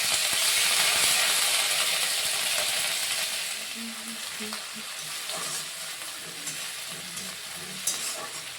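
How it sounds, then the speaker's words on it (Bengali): Ginger-onion paste fried in oil over a cumin and nigella seed tempering for a Bengali koi fish curry. A loud hiss at first gives way to a softer, steady sizzle, with scattered stirring scrapes and a sharp clink near the end. "আদা পেঁয়াজ তেলের সাথে ভালো করে নেড়েচেড়ে নিয়েছি"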